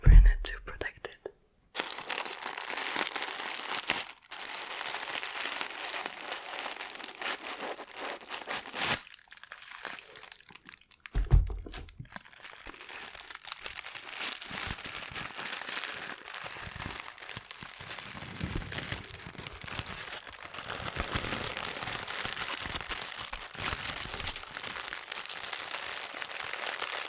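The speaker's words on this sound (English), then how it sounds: "There's some paper in it to protect it." Protective paper inside a new box of black shoes crinkles and rustles close up for a long stretch, with a few brief pauses and soft spoken words here and there.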